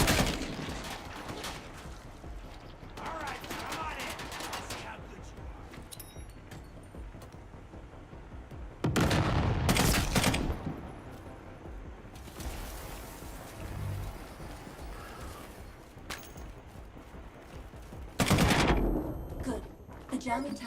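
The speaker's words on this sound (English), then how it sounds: "You can switch to first-person shooting too in this game." First-person shooting in a video game, with rapid bursts of loud automatic gunfire, some long and dense, others short, over a steady layer of game ambience, while a voice talks intermittently.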